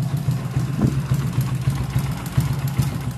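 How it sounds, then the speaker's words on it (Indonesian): A Honda Supra X 125 motorcycle idles running without its battery, a steady close, loud low-pitched single-cylinder putter with even rapid pulses and slight rough knocking. "tanpa aki motor tetap hidup ya teman-teman."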